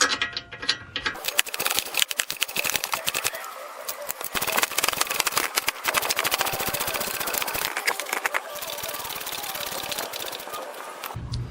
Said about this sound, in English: Now we'll put in the lower pinch bolt.